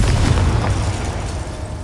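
A Confringo spell explosion in Hogwarts Legacy, a single loud, deep boom that swells at once and rumbles away over about two seconds.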